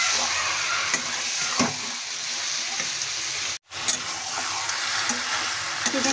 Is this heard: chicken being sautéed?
yes